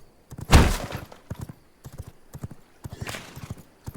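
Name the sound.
horse hooves clip-clopping in video game V Rising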